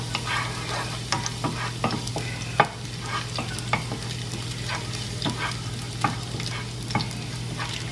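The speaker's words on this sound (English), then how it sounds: "we're gonna start with the garlic. Just saute that for a little bit." Garlic sautéing in vegetable oil for a Filipino sautéed cabbage dish, a steady close sizzle broken by repeated scraping strokes of a spoon or spatula against the pan, with no talking.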